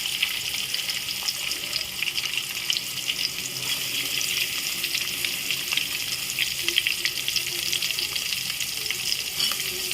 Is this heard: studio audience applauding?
no